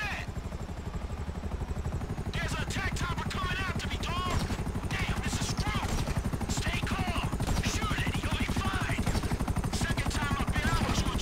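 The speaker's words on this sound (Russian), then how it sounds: "Не машинка, а вертолет." Helicopter in the video game GTA 5, its dense rotor thump and engine drone steady and loud throughout, overlaid by gunfire-like clatter and other game sounds while a voice talks.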